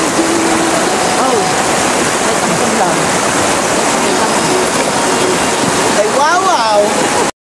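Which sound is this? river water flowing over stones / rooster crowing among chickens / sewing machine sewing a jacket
river water flowing over stones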